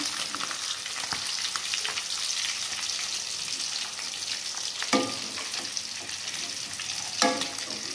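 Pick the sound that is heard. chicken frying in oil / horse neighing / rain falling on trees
chicken frying in oil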